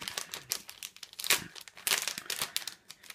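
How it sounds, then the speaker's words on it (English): Packaging of a leather sewing kit crinkles and rustles as it is unboxed, with irregular close bursts of crumpling and a few louder crunches. "So we're going to slide off the belly band, open the box, and there's all the kit inside."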